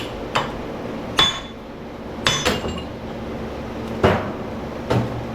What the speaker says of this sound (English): With the wedge hammer, you don't need to be holding anything else. You just let the hammer do the work.